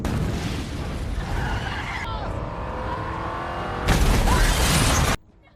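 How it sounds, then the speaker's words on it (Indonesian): A car engine roars steadily, then a sudden loud blast erupts and rumbles briefly before cutting off. "Saat di perjalanan menuju rumah, salah satu mobil ajudan itu meledak"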